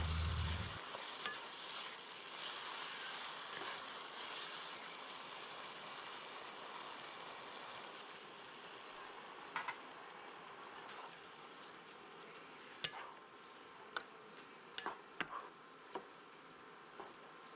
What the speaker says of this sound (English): go ahead and stir that in so that it's mixed evenly with all the beef, and let it thicken as it cooks